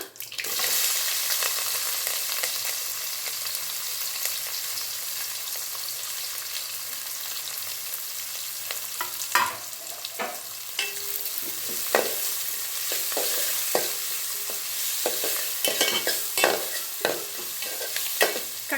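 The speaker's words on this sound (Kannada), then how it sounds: "ಸಾಸಿವೆ ಚಟ್ಪಟ್ ಅನ್ನುವಾಗ ಮೆಣಸಿನ್ಕಾಯಿ ಕರ್ಬೇ ಸೊಪ್ಪು ಈರುಳ್ಳಿ ಹಾಕೋಬಿಡೋಣ" Steady sizzling of green chilies, curry leaves and onion frying in hot oil with crackling mustard seeds, with scattered crackles and pops and the occasional scrape of stirring.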